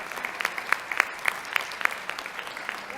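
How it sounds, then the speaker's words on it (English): A school board meeting audience gives a round of applause for students' achievements, with sharp, evenly spaced claps from a modest group rising over a steady bed of clapping. "Let's give these students another round of applause for these outstanding achievements"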